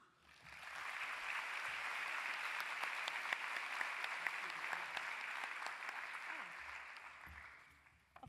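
Sustained applause from a conference audience greeting a keynote speaker at the ISBNPA 2025 meeting, a dense even clatter of many hands that swells in, holds steady for several seconds and tapers off, with no talk over it.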